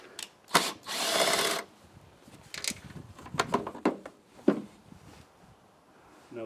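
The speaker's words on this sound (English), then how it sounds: "We just have these 3 bolts that need to be taken out." A power tool backing out bolts on a 1988 MTD mower, with a short whirring burst of the driver followed by several brief spins and scattered metal clicks and clatter, close up, with no talking.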